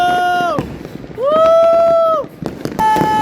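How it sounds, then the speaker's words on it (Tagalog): Neighbours' fireworks going off close by: loud shrieking whistles that swoop up, hold, then drop, with crackling bursts and pops between and after them. "Gaganda ng mga fireworks ng kapitbahay namin!"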